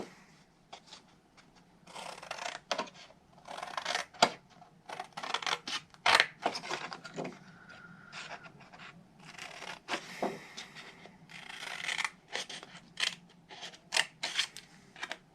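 Scissors cutting out paper by hand for a milk carton craft project: close, crisp snipping strokes in irregular bursts with short pauses and a few rustles of paper, no talk.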